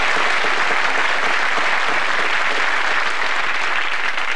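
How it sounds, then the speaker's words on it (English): A crowd applauds steadily, a dense wash of clapping that holds at full volume throughout. "Give him a big clap."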